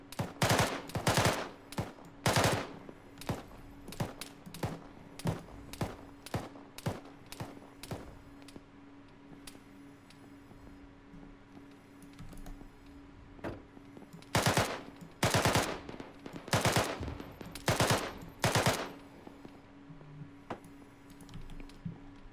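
Machine gun fire in the Arma 3 military game comes in rapid sharp bursts. Dense volleys open the stretch, a quieter gap follows, and heavy bursts return near the end, loud and close.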